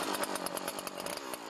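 A chainsaw runs at high revs while cutting through a layer of lake ice beneath snow, a steady, buzzing, pulsing drone heard alone and fairly near.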